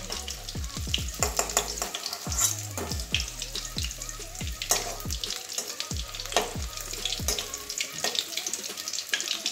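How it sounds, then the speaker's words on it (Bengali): Boiled eggs frying in oil in a pan, a continuous close crackling sizzle broken by frequent sharp clinks and knocks of a utensil, with no one talking. "বাকি ডিমগুলো ওইভাবেই ভেজে নিচ্ছি সব।"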